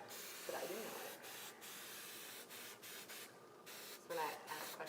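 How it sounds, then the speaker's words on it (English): A spray can of transparent sealer hisses steadily in long bursts broken by short pauses, close and fairly loud, with a faint voice murmuring underneath, used while finishing an artificial taxidermy fish. "the transparent sealer does spray very, very nicely"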